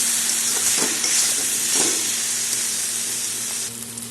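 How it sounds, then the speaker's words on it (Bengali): Spices, vegetables and a fish head sizzle and fry in a pan for a Bengali squash curry, with a steady loud hiss, occasional stirring scrapes, and the sizzle dropping off near the end. "মশলা সবজি সব সাথে কষিয়ে নেব।"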